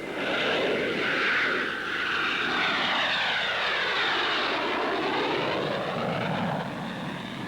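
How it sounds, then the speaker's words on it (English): An early powered propeller airplane drones overhead in flight, a loud continuous engine roar with shifting tonal whine that rises and falls steadily throughout, with no other sounds. "Orville and Wilbur Wright made man's first 4 controlled flights in a powered airplane."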